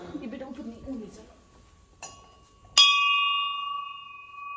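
A small metal bell rung at a birthday celebration, giving a couple of bright strikes, the last one loud with a long ringing decay, after muffled talk at the start.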